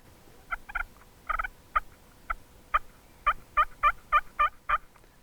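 A push-button turkey call makes a string of hen yelps and clucks, sharp and close, in irregular bursts that tighten into a quick rhythmic run of about a dozen notes.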